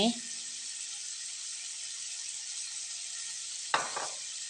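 Squid stir-fries in a pan with sugar and oyster sauce, giving a soft, even sizzle throughout, with a brief clatter of utensil against pan near the end.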